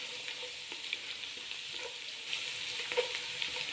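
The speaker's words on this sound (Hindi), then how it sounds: "इसको हमने 1 मिनट के लिए फ्राई कर लेना है।" Chopped garlic fries with cumin in a pan, giving a steady, close hiss of sizzling oil with a few soft stirring knocks and no voices.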